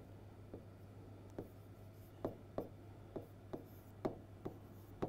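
A pen writes on paper in quiet, close strokes, with a string of soft scratchy taps at an uneven rhythm over a faint steady hum, and no talk.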